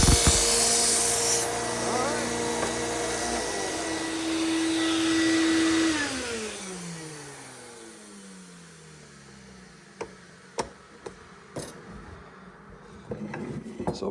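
A Henckels kitchen knife is sharpened on the slack part of a belt grinder. A loud whirring, rasping grind runs for several seconds before the machine winds down, and a few sharp knocks and taps follow in near silence.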